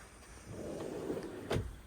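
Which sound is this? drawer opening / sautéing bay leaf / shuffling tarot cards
drawer opening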